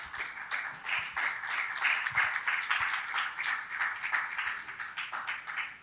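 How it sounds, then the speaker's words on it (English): An audience at a speaker session applauding warmly, dense steady clapping from many hands sustained for several seconds at moderate level, with no voices over it. "Give everybody a round of applause"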